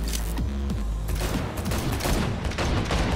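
Rapid bursts of automatic gunfire from a van during a Cyberpunk 2077 car chase, loud and sustained over engine rumble and shifting in-game effects, without talk.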